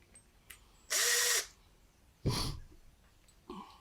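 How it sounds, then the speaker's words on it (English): A small power tool loosens a hose clamp on a water hose repair, giving a short sharp whir burst followed by a second briefer spin and a faint third one, all close and without talk. "We'll loosen this hose clamp back up."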